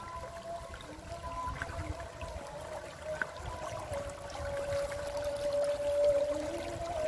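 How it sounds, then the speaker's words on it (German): Mountain-fed irrigation water runs through channels among rice fields and chili plants near Tetebatu village, a soft continuous trickle and gurgle with a faint tonal hum, no voices. "Auch die Bewässerung. Wasser kommt aus dem Berg."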